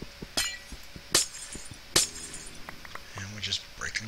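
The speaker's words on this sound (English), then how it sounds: "And we're just breaking glass." Glass blocks break in Minecraft with three sharp, crisp shattering crashes spaced about a second apart, followed by lighter clinks and small game sounds, while someone talks throughout.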